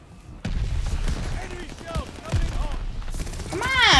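Gunfire from a gun in the video game Call of Duty Vanguard rattles in a short loud burst mixed with game effects and a rising whine near the end.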